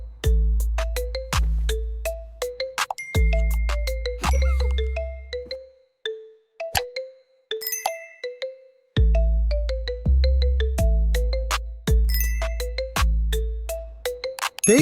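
Repeated bright electronic ringtone chimes play in loud rhythmic bursts of a looping melody, with short pauses between phrases and no voices, set in an animated animal comedy.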